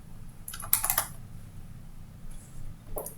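Computer keyboard typing during office paperwork: a few quick, close keystroke clusters at the start, then a quiet pause and a couple more taps near the end, over a low hum.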